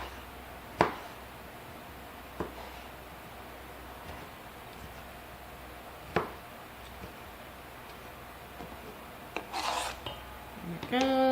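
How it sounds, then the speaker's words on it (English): A knife chopping a tomato in a home kitchen, a few sparse, sharp taps on a cutting board spaced seconds apart, quiet and close, with faint handling noise between them. "Chop up the tomato."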